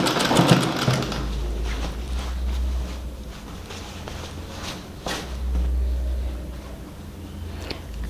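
A sewing machine stitches a baby frock in two sustained runs with a short pause between, a close, steady low whirring hum with a light mechanical clatter and no one speaking.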